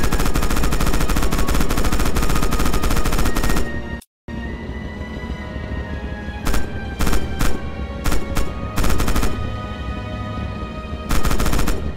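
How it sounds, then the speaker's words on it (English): A tank's hull machine gun fires in Red Orchestra 2 with one long sustained burst, then a short gap, then several shorter rapid bursts. The fire is loud and close. "Use the hull MG and open fire on the targets."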